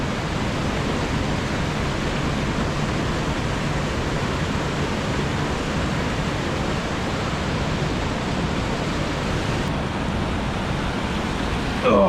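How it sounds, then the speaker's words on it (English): Water rushes through a waterfall gorge in Ohio, a loud, dense, continuous roar of flowing water that holds steady throughout with no voices. "I hear water going this way."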